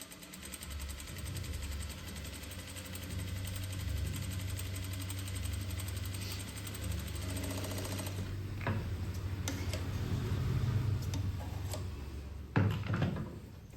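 Sewing machine stitching a kurti seam, a steady mechanical whirring drone running continuously, with a few clicks and knocks near the end as the stitching slows.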